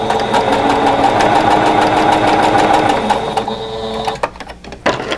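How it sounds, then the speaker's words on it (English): A sewing machine stitching a quilt block runs loud and steady with a fast, even mechanical chatter, then slows and stops near the end with a few clicks. "So I'm now going to take this to the sewing machine and sew this."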